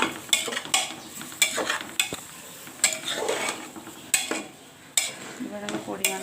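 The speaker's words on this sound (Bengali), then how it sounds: "তো এটাকে আমি ভালোভাবে নেড়ে ছেড়ে দিচ্ছি।" Lentil dal with spinach and mixed vegetables being stirred in a pan, giving repeated scraping strokes of a spoon against the metal with light clinks, close and fairly loud with no talking.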